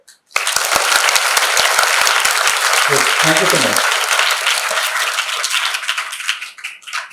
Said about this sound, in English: Okay, clap for that.